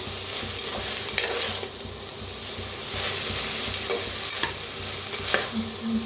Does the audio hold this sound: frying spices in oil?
yes